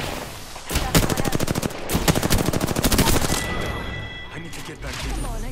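Loud, rapid bursts of automatic gunfire from the Apex Legends video game crack close up in quick repeated volleys, then taper off toward the end.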